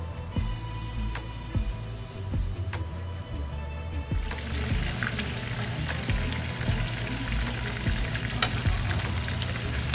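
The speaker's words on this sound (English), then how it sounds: "I let it fry for about 10 minutes" Chicken and pork adobo frying in a pan gives a continuous close sizzle and crackle, with occasional sharp pops and clicks over a low background hum.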